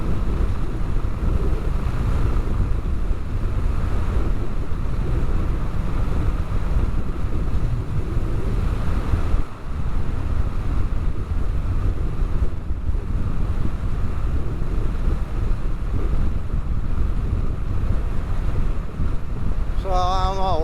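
Harley-Davidson Custom 500 motorcycle cruising in sixth gear, a continuous loud engine drone heavily mixed with buffeting wind noise from the ride, steady throughout.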